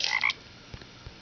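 A cartoonish frog in the Pocket Frogs breeding game gives a quick pair of bright croaks right at the start, followed by a few soft, faint taps, with no one talking.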